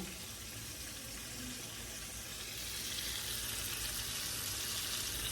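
Chicken dropped into hot oil on a stove, Jamaican style, sizzles and crackles steadily, the frying growing louder and brighter partway through with no talk over it.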